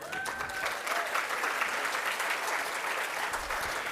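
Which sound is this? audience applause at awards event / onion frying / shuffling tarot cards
audience applause at awards event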